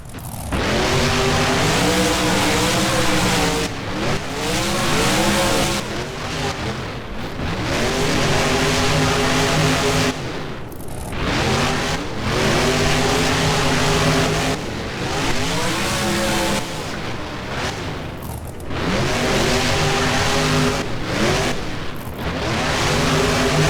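Monster trucks Grave Digger The Legend and Enforcer race in the BeamNG game at Arlington, their engines roaring loud and close in long rising revs, dropping off and climbing again every few seconds.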